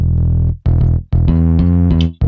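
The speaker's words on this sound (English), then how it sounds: "with my bass sounds, I chuck a little bit of distortion" A synthesized bass line run through a Fruity Fast Dist distortion plugin in FL Studio plays loud, buzzing sustained notes in three phrases separated by short gaps.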